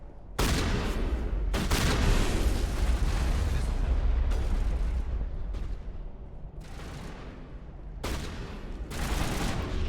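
Sustained bursts of sci-fi gunfire and heavy weapon blasts in the Mass Effect video game, loud and near, coming in several dense volleys with brief gaps, with a voice talking faintly underneath.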